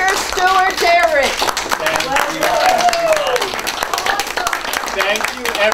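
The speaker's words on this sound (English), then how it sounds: "Let's give them a round of applause." Audience clapping for a panel of authors at a book event, a continuous round of applause with chatter and voices mixed in throughout.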